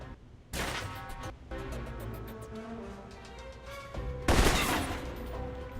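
Assault rifle fire in the video game Alpha Protocol, heard as loud rapid bursts that begin after a short pause and run almost without a break, with a sharper, heavier burst near the end.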